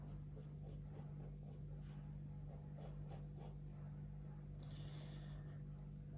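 Freehand pencil sketching on paper, a series of soft, close scratchy strokes in short bursts over a constant low electrical hum, faint and without talk.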